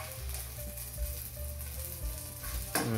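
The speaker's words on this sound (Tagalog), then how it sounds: "Kumukulo-kulo pa yung mantika," Eggplant pieces frying in hot oil, a continuous bubbling sizzle with occasional stirring clinks and a louder spatter near the end, with no voices.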